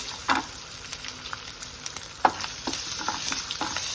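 Green chilies and curry leaves fry in hot oil as they are stirred, a close crackling sizzle with frequent light spatters and spoon scrapes throughout.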